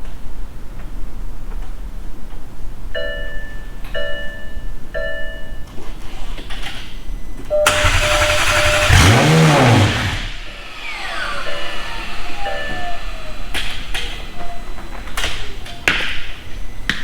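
A McLaren 720S with a swapped engine, rebuilt after fatal damage and tuned to 886 whp, starts up in a workshop: a few electronic chimes, then a loud burst as it fires with a rising rev that drops back to a quieter idle, with scattered clicks around it.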